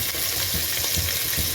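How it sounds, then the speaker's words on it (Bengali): Tomato, chili and onion are stirred in hot frying oil, giving a dense, continuous sizzle with soft scraping strokes of the spoon, heard close and alone. "তেল দিয়ে আমরা কিছুক্ষণ নাড়াচাড়া করলাম।"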